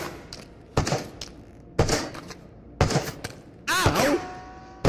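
Sniper shots in the Radius video game, fired in several sharp, separate cracks with a louder burst near the end, over a faint background while someone talks.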